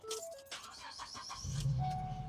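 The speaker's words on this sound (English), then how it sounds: "Go ahead and try to start the vehicle." The engine of a 2015 Ford Transit 250 van turns over briefly and catches into a low idle just after a new battery is fitted, captured up close.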